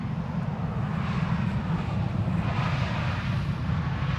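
German Airways airliner flying overhead, a steady low rumbling engine roar, moderately distant and unbroken, with no talk.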